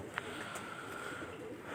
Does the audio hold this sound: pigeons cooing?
yes